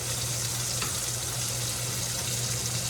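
Butter sizzling and frying steadily in a hot pan alongside quail, a dense, even hiss with a low hum beneath and no talking.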